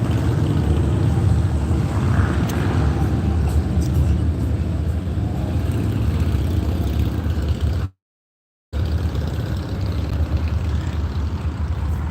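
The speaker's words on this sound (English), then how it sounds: "We want to see the bikes come by." Motorcycles passing on a windy street, a steady broad engine and wind rush roaring close and loud throughout, broken by a brief dropout near the end.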